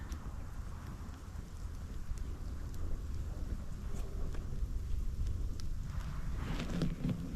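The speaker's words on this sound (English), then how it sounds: "the wind is up tonight" Wind blowing outdoors at night beside a small campfire in winter, a low, steady rumbling roar with gusty buffeting, fairly faint and continuous.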